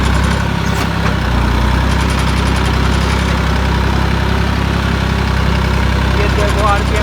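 A tractor pulling a farm tillage implement runs at a steady, unwavering engine rumble throughout, and someone talks over the constant drone.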